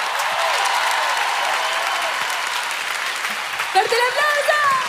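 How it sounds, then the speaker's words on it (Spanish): Live-concert audience applause for the accompanying choir in a theater, a loud, sustained roar of clapping and crowd noise, with voices and cheers rising over it toward the end. "Quiero pedir por favor un fuerte aplauso para el coro que me acompañó esta noche."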